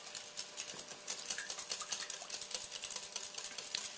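A whisk beats oil and eggs together for cake batter in a bowl, producing a faint, rapid, steady clicking and tapping rhythm throughout.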